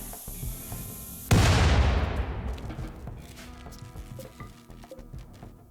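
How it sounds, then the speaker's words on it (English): A sudden loud boom of an explosion in the video game RimWorld, following a quieter stretch and then trailing off into a long rumbling decay with scattered crackles. "And that's gonna explode."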